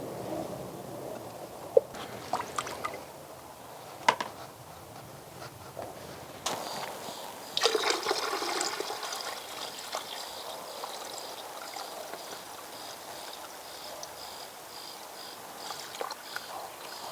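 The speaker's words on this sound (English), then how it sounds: "So the pond is all set up now. The fountain's not working fully because there's not enough sunlight" A garden pond fountain trickles water steadily, running weakly for lack of sunlight, with a few soft knocks and rustles nearby.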